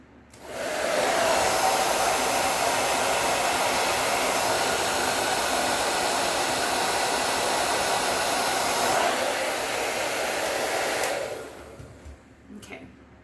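A heat styling tool blows on high heat at a wig, making a loud, steady whooshing roar that starts after a second, holds for about ten seconds, then cuts off with a few faint clicks.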